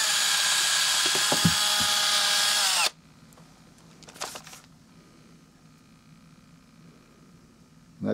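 A rotating part of a vintage .22 rifle spun by a power tool against sandpaper cushioned on a rag, a loud whirring grind for about three seconds, then cut off, followed by faint handling clicks.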